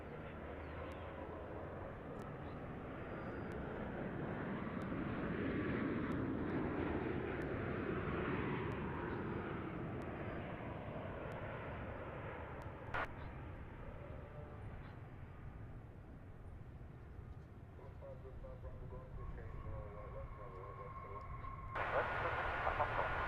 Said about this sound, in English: we get our 280 Heavy inbound from Seoul, South Korea on the Dreamliner